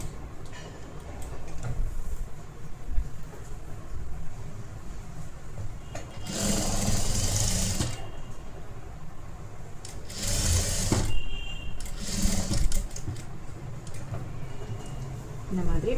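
Sewing machine stitching blouse fabric in several short bursts of rapid, buzzing needle strokes separated by pauses, heard up close while someone talks in between.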